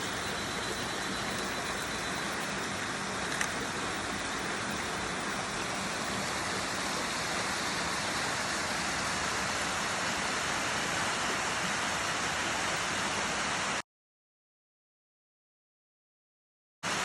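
Steady broadband rush of the Leura Cascades waterfall in the Blue Mountains, a constant full roar of falling water heard up close, continuing unbroken before cutting to silence near the end.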